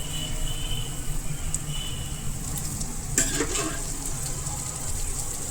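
Boiled green pigeon peas (tuvar) tipped into hot masala in a pan, giving a steady close sizzle and frying hiss with a brief stirring clatter partway through, no talking.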